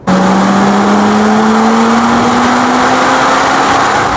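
A Mazda RX8 rotary engine, close and loud, holding a strong steady drone that climbs slowly in pitch as the car accelerates on a country road, with no talk over it.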